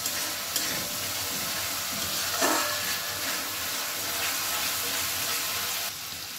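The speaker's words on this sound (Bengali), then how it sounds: "চালটাও মশলার সাথে ভালো করে কষানো হয়ে গেছে।" Gobindobhog rice fries with spices in a pan over a medium flame, giving a steady, broad hiss with occasional stirring scrapes, fairly close and without speech.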